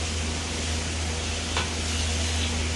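Chicken gravy is stirred in a hot pan, giving a steady, close sizzle with a faint scrape of the spoon partway through.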